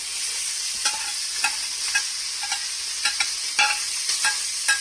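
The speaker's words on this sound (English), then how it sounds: "Let's fry them." Bologna slices fry in a hot pan with a soft continuous sizzle, broken by light scraping and stirring taps spaced through it, and no one speaking.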